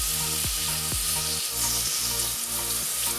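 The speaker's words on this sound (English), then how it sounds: "Now I am going to get a roux going. I'm going to start out with some butter." Butter melts and sizzles in a pan on a new induction stove as a roux is started for a lobster mac and cheese sauce, with a close, steady frying crackle and a few rhythmic stirring scrapes.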